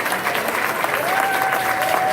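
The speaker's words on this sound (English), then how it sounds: "we just ask that you give the Most High a hand clap" Steady, dense applause from an audience at a film premiere screening in the Bronx, New York, continuous and fairly loud for the whole stretch with a faint tone running through it.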